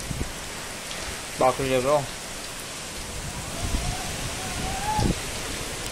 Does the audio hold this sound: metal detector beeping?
no